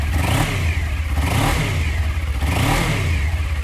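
A 2018 Suzuki GSX250R 250cc motorcycle engine revs up and down in a few rising and falling swells, loud and close with a buzzy, throaty tone.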